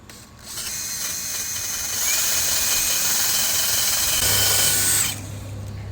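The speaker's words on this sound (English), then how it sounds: "We're going to clean all of this old gasket off with a wire wheel" A wire wheel on a power tool scrubs old gasket material off the valve cover of a Briggs & Stratton V-twin engine, giving a steady, loud whirring grind that rises partway through and then cuts off near the end.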